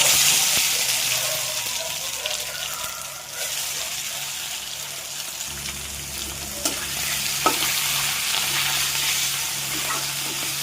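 Boiled potatoes frying in hot oil with bay leaf, dried chilli and cumin, a steady close sizzle that runs the whole time with occasional stirring scrapes and clinks, no speech.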